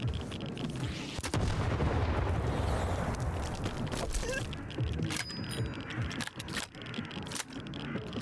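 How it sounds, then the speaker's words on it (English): In the Stalker 2 video game, a grenade launcher fires and blasts roar as loud, dense booms and rumbling explosions, followed by scattered sharp bangs and debris clatter. "Kill a rodent using a grenade launcher"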